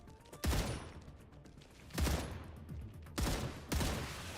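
Bursts of rapid gunfire from the StarRupture video game while shooting infected nodules, three or four loud volleys spaced apart over a quieter background.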